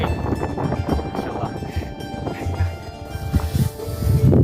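Strong gusting wind in fog while climbing Mount Slamet, a loud, steady broadband roar with rumbling surges that swell again near the end.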